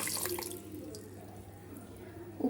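One and a half tumblers of water are poured over an equal measure of rice in a pot for cumin rice, giving a steady close-up splashing and trickling pour that ends with a brief clink.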